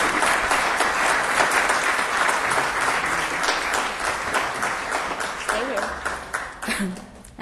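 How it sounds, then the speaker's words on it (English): Steady, full applause from an audience at a city council meeting honoring the parks director, loud and continuous before thinning out over the last seconds. "He deserves a great round of applause."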